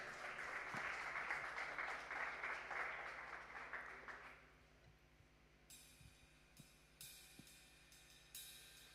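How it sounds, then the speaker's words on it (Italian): A church congregation at a youth worship service applauds together in a dense, steady burst for about four seconds, then the clapping fades into a quieter room with a few scattered claps and soft tones. "Facciamo un applauso al nostro Signore."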